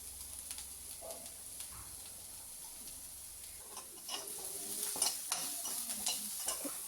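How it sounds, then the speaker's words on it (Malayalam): Chopped onions with salt sautéing in a pan for Kerala-style payar thoran, a soft continuous sizzle with scraping stirs that grow busier toward the end, faint, with no talk. "അതോടെ ചേർത്ത് നന്നായിട്ട് വഴറ്റി അല്പം ഉപ്പൂടും ചേർത്ത്"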